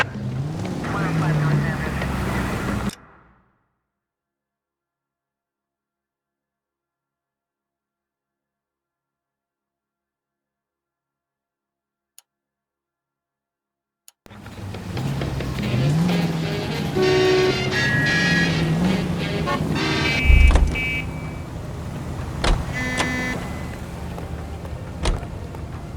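A car is driven in the game L.A. Noire with a steady engine drone and brief tire noise. It cuts out into a long silence, then returns, with a police radio voice talking over the engine.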